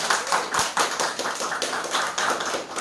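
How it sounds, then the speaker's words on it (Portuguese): Audience members at a film festival debate clap briefly, a close, uneven run of hand claps with a choppy rhythm from a small group. "Uma salva de palmas por gentileza."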